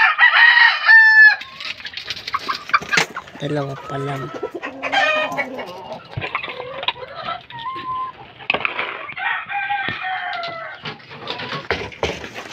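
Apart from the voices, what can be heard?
gamecock rooster and hens crowing and clucking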